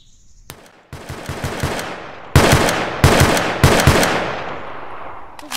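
Bursts of automatic rifle fire from a Honey Badger-style gun in a Roblox war game, several rapid loud strings of shots separated by short pauses, sharp and close with no talk over them.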